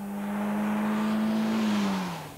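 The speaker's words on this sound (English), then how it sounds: "What you will want is to accelerate on a slip road, have extra power for overtaking" A 1995 Peugeot 406 saloon accelerating, a steady engine drone that holds its pitch and then dips slightly near the end, heard close with no talk.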